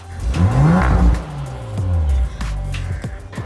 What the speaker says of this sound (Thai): เสียงของรถยนต์คันนี้สะใจ แฟนๆ Audi อย่างแท้จริงนะครับ